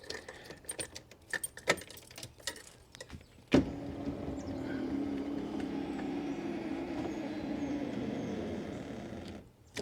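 A 1981 Corvette's power driver's seat motor whirs steadily for several seconds after some clicks and jangling at the start, a close, even electric hum that stops abruptly at the end.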